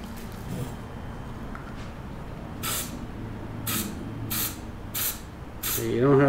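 Fluorescent green spray paint hisses from an aerosol can in several short, separate bursts, fairly close and loud over a steady background rumble.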